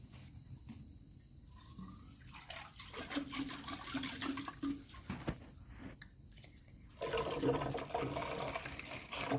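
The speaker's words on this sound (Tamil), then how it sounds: "இந்த பாட்டிலையும் கூட நீங்கள் வந்து ஒரு அலாசி ஊற்றிக்கலாம்" Liquid microbial solution is poured from a bottle, with the bottle then rinsed and emptied, giving uneven splashing and gurgling that swells louder toward the end, close by with faint background noise.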